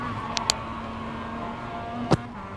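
Mazda MX5 engine held at full throttle on the Tsukuba circuit in the iRacing simulator, a steady droning hum with a couple of brief sharp clicks over it.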